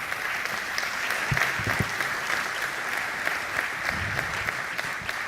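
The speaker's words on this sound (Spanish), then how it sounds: "Un aplauso para él, por favor." An audience at an agricultural conference session in Spain claps in sustained applause, a dense patter of hands at moderate volume that carries on evenly from start to finish.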